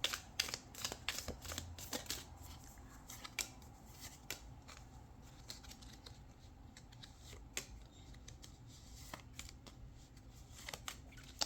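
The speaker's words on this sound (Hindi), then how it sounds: "काफ़ी सारे कार्ड्स आ गए, लेकिन थोड़े और ले लेते हैं।" Tarot cards being drawn and shuffled from a deck, heard as faint, quick papery flicks and snaps scattered irregularly across a quiet room.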